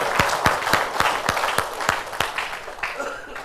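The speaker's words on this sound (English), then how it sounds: "A big round of applause for her." Audience applause at a community business talk, a steady run of sharp claps from a crowd, fairly close and loud, rising and falling slightly over a few seconds with no talk over it.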